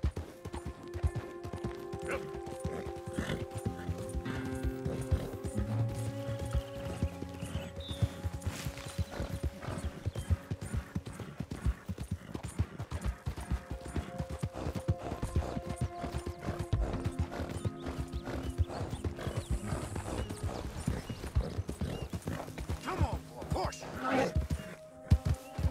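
Hooves of a horse galloping in Red Dead Redemption 2 pound steadily and quickly throughout, with game sounds layered in and a person talking over it.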